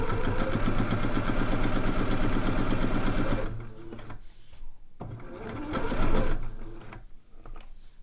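A sewing machine stitches steadily around a fabric Christmas stocking at close range with a fast, even whirr, then stops and starts in short bursts with small handling noises in between.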